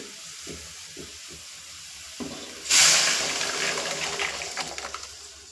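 Ground masala paste added to softened onions frying for egg sambar, with a sudden loud sizzle that bursts in midway and keeps crackling steadily after quieter stirring scrapes.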